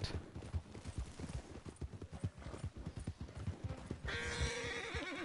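Horse hooves clip-clop in a steady trotting rhythm in Red Dead Redemption 2 Online, ending in a loud whinny near the finish, with a brief voice in the background.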